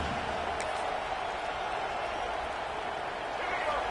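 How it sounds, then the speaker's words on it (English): Football stadium crowd roaring steadily for the home defense during a college game, a dense continuous wall of cheering with a faint whistle near the start. "Listen to this crowd just shaking the girders of this place, trying to help their defense."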